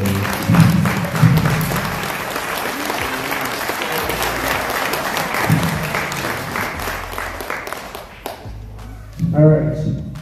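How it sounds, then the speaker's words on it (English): Audience at a fifth grade continuation ceremony applauds families in a steady wash of clapping lasting several seconds, with scattered voices and thumps mixed in before it fades and a voice speaks at the end. "can we give them a round of applause?"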